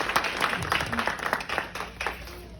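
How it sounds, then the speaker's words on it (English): A welcoming round of audience applause for an evening's guest speaker, with distinct close claps in a lively, uneven patter that rises and falls for a few seconds. "Round of applause."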